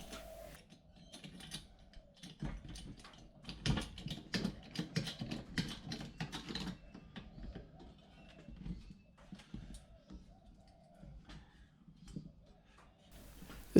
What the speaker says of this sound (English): This is a 4-ton rated hydraulic jack, and it's doing a bit of work to get that spring compressed.